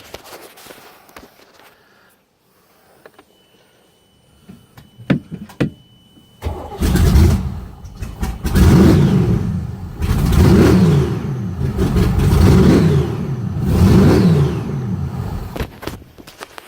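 The starboard engine of a 42-foot Fountain powerboat turns over and fires after some clicks and quiet cranking, then roars loud and near through a string of rhythmic revving surges.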